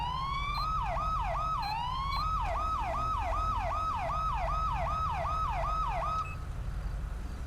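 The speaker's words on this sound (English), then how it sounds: "Okay, so this has one of the older sirens too." An older-style police siren in the game FiveM, a fast repeating yelp cycling rapidly up and down for several seconds over a constant low rumble, then cutting off near the end.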